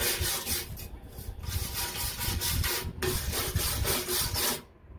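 Rust is scraped off the metal body of a lawn mower in repeated, rough rasping strokes, loud and close, with short pauses between passes.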